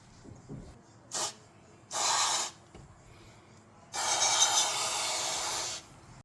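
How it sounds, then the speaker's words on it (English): Carburettor cleaner hisses from an aerosol can into an old carburettor on a Targa Florio, one short burst, then a longer one, then a sustained spray of about two seconds, close and loud. "just use the carby cleaner to help get it started"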